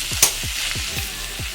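Meat scraps, including belly and skin, fry in an iron kadai with a loud, close sizzle and quick repeated stirring scrapes over a short burst.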